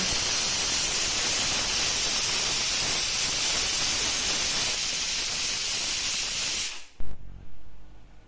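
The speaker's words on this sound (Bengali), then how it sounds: "প্রেসার কুকারের ঢাকনা বন্ধ করে গ্যাসের ফ্লেম হাইতে রেখে পাঁচটা সিটি দিয়ে নেব" Loud, continuous hiss of steam escaping from a pressure cooker on a high gas flame while mutton and potato curry cooks, cutting off abruptly near the end, followed by a few light clanks.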